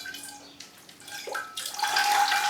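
Tap water runs onto a potted orchid in coconut husk, a steady splashing trickle that swells louder and brighter partway through and continues to the end.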